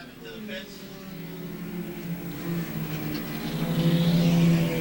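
Race cars lapping at Airborne Speedway in Plattsburgh, New York, engines droning and rising in pitch as the field passes, growing louder toward the end, with an announcer talking over the racing.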